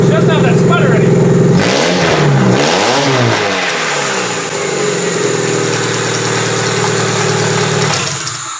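A motor restarted after its fuel was switched off and back on, revving up and wavering for a few seconds before settling into a steady, smooth run, loud and close.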